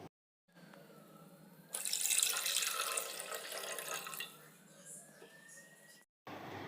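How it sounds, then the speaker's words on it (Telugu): About three cups of water are poured into a pot on a stove for sago and jaggery payasam, making a brief, fairly faint splashing pour close by that swells and then settles. "అందులోకి 3 కప్పుల వరకు వాటర్ వేసుకోవాలండి."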